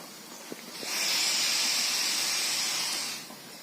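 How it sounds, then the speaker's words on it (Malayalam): A steady, loud hiss of escaping steam from a pressure cooker, used for steam inhalation, rises abruptly, holds for a couple of seconds, then cuts off, with faint clicks before and after. "അല്പം ഒന്ന് സൂക്ഷിച്ചാൽ ഒരു ബുദ്ധിമുട്ടും ഇല്ലാതെ ആവി പിടിക്കാൻ സാധിക്കും."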